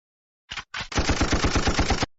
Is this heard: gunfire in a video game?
yes